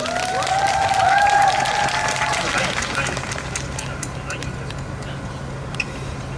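An audience applauds at an outdoor busking performance, with cheering voices over the clapping at first. The applause fades to a lower, steady patter.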